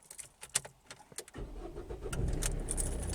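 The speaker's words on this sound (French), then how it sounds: "prochain objectif, c'est de démarrer la voiture." A car engine turns over after a light jingle of keys, then settles into a steady low running rumble, heard close and alone.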